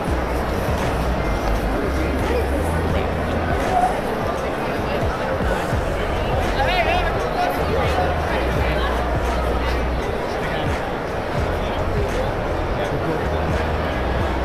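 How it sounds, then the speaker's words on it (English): A dense, continuous babble of many voices fills a crowded hall at New York Comic Con 2022, steady and close all around, with occasional nearby speech rising above it. "We got caught in the crowd."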